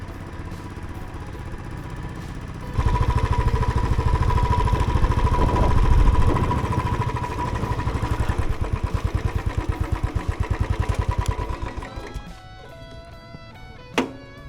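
A Royal Enfield Classic 350 motorcycle engine idles with a steady rhythmic putter, revving up and down, then cuts off near the end, leaving quieter background sounds and a click.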